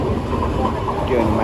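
A train arrives at a station, a steady low rumble and rolling noise close by, with no distinct clacks.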